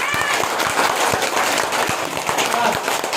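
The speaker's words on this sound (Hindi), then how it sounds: "जोरदार तालियों से स्वागत।" Loud, dense applause welcoming a school headmaster at a graduation ceremony, many hands clapping continuously throughout with a few voices mixed in.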